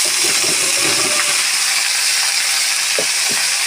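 Bitter gourd slices hit hot mustard oil over browned onions in a pan, giving a steady, loud, close sizzle with faint stirring clicks near the end, no talking.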